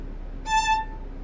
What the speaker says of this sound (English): So if you want a violin played at an A